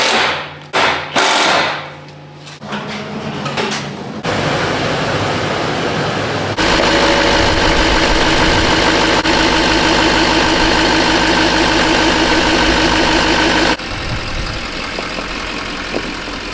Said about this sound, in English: this will be my very first time listening to a 10-blade RDS turbo on a fully emissions intact Duramax